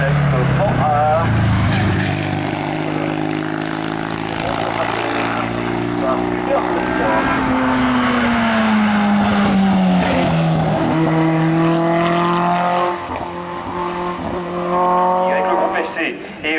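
A Panhard race car climbing a hill climb course at Hébecrevon, its engine note rising and falling through gear changes, loud and continuous, with commentary over the top.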